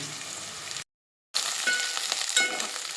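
Chopped onions and green chillies sizzling in hot oil in a pot on a stove, a steady close frying hiss that cuts out briefly and then resumes.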